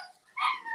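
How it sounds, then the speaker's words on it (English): Dogs at home give a brief, faint whimpering yelp, a thin high whine that rises out of near silence for a fraction of a second. "You can hear my dogs."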